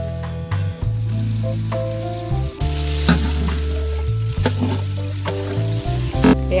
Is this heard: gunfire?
no